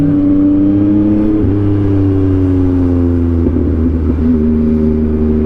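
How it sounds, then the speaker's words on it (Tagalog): A motorcycle ridden along the Davao City Diversion Road drones steadily and loudly up close, its engine pitch easing and shifting slightly as it cruises, with road and wind noise. "masarap talaga gamitin ang motor natin"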